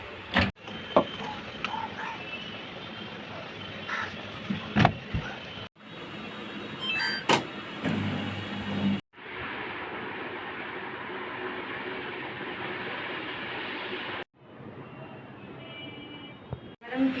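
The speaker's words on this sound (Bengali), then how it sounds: "আমি সর্ষে, আদা, রসুন আর কাঁচা লঙ্কা একসঙ্গে বেটে নিচ্ছি।" Mustard seeds, ginger, garlic and green chillies are ground together in a kitchen blender, with several loud whirring bursts separated by short stops.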